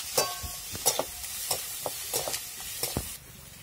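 Onion and green chillies for rava upma frying in a pan, a soft sizzle broken by clinks and scrapes of a spoon stirring against the metal, close and fairly loud.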